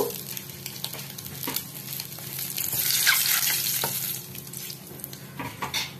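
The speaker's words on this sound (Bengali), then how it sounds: "এবার এখানে আমি হাঁসের ডিম ছেড়ে দিচ্ছি, এটাকে আমি একটু ফ্রাই করে নেব।" Duck eggs frying in a pan give a steady close sizzle with occasional taps and scrapes of a utensil, swelling briefly louder midway, with no speech.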